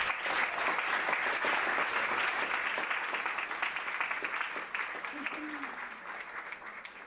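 Diners at an end-of-year recognition dinner applaud in a long, steady burst that gradually thins and fades, with faint voices mixed in.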